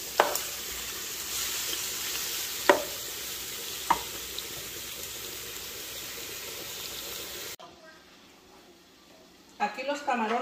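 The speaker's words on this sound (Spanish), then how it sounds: "Voy a freír los camarones, nada más a que cambien de color" Shrimp fry in butter in a pan, giving a steady loud sizzle with a few sharp utensil taps. The sizzle drops away near the end, and brief clinks and movement follow.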